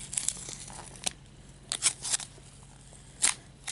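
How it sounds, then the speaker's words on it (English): Plastic packaging is peeled off a soft tofu squishy, giving faint, close crinkles and short sticky tearing bursts in irregular clusters against a quiet background. "So if you squish it, kind of makes the plastic peel off anyways."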